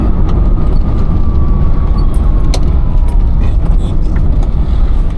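A Maruti 800 on a night drive near Shimla drones loudly through its engine and road noise from inside the cabin, with a faint gear-shift whine drifting down in pitch as it downshifts.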